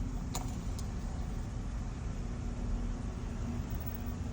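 A line of cars idles in the cold, a steady low engine drone with a faint whine, plus two brief jingling clicks near the start and no talk.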